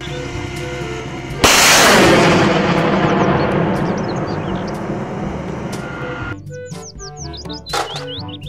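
A sudden loud roaring blast of a rocket launched from a military rocket truck rumbles and slowly fades, followed by a few sharp cracks near the end.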